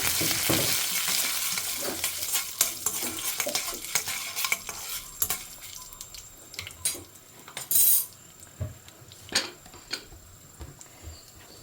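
Mustard seeds, two broken dried red chillies and curry leaves frying in hot oil crackle and pop in quick irregular bursts, mixed with clattering stirs of a spoon against the pan.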